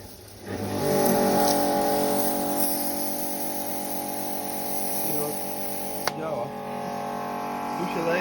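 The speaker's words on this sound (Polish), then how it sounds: "Silnik działa. Myjka działa." Kärcher K4 pressure washer, a curbside find with a water leak, motor starting up and running with a steady droning hum, one sharp click partway through, close and loud with no talk.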